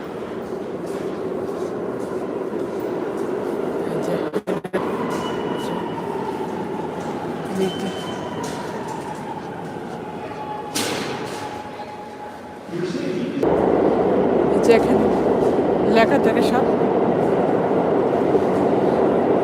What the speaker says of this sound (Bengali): আমার সি ট্রেন আসবে